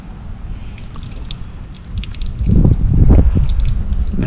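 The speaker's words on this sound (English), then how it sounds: "Pour off the rest of that water." Leftover water poured off a container of compost mostly made of wood chips, a splashing pour that swells partway through and carries on loud and close to the end.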